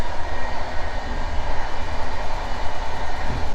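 Steady low rumble and rattling of a moving train on the Vilnius–Szczecin route, heard from inside a carriage, continuous and fairly loud with no talking.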